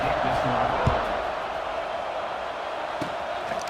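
Stadium crowd noise from the College Football 26 video game, a steady dense roar filling the background at even loudness with a couple of brief thumps, no talk over it.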